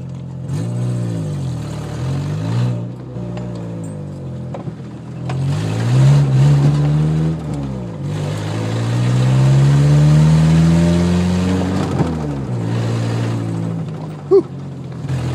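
An off-road vehicle climbs a hilly trail in northern Michigan in low gear, its engine rising and falling through several long, loud revs that swell and ease off.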